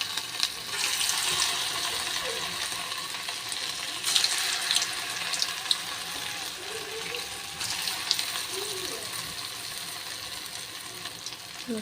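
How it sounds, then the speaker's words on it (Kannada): Maize vadas deep-frying in oil in a kitchen, a steady, dense bubbling sizzle that runs continuously and fairly loud, with a few brief surges and no speech. "ಇದನ್ನು ಲೋ ಚೆನ್ನಾಗಿ ಫ್ರೈ ಮಾಡಬೇಕು"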